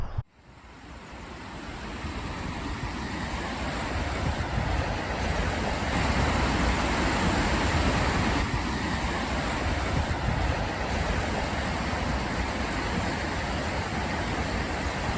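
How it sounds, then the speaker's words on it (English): Flood water on the River Mersey rushes past a weir in a steady, broad roar that holds constant and loud throughout, with light wind buffeting the microphone. "that water's moving pretty fast today too"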